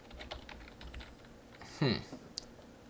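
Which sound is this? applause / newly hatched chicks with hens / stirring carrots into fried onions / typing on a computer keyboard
typing on a computer keyboard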